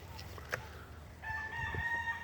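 A red quill Leiper fowl stag rooster crows once, a clear drawn-out call rising in after a short pause, heard at moderate distance with a little background noise and clucking.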